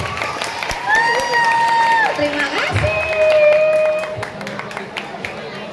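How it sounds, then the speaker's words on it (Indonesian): Students at a school youth counselling event in Wonogiri clap and cheer as a crowd, with a voice talking over the steady applause throughout. "Kasih tepuk tangan dong teman-teman"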